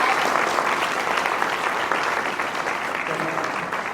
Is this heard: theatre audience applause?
yes